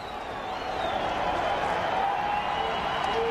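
A packed stadium crowd at a Colorado State versus Colorado football game, a dense sustained roar of cheering from a large distant mass of fans, steady and loud throughout with an announcer's voice over it.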